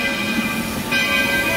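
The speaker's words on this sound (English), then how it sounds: "there's the train coming in." Theme park train pulling into a Magic Kingdom station, a steady rumbling hum with sustained tonal whine that brightens partway through, close and fairly loud without talk.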